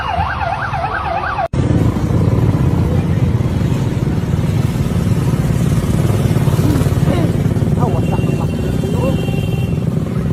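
Motorcycles rumble past on a busy Philippine street right after an earthquake, a dense, loud engine roar with a brief siren wail at the start, faint horn-like tones later and people talking.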